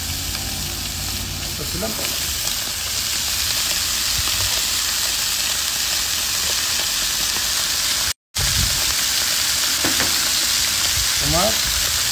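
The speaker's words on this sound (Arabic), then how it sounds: "تقمر اللحم" Meat browning in a pot for red meat kabsa, a loud steady close sizzle with occasional stirring scrapes and a brief dropout midway, a short spoken word heard over it.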